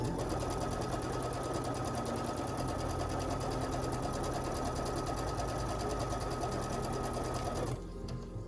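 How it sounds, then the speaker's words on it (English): Sewing machine stitching fabric strips for a table runner with a quarter-inch seam, a steady fast mechanical whir running continuously for several seconds before stopping abruptly near the end. "I'm going to sew those on now. using a 1/4 inch seam"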